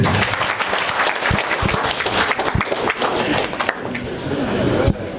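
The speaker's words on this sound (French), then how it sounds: "Je vais vous demander d'applaudir" Dense, sustained audience applause fills the hall at the installation of a new president of the Guinean community in Port-Gentil, loud and continuous with some scattered sharper claps, fading slightly near the end.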